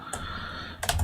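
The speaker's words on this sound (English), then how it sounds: "Keep fat fingering everything on this keyboard" Keystrokes on a computer keyboard, a brief burst of a few clicks near the end after a soft tap at the start, close and fairly quiet with no talking.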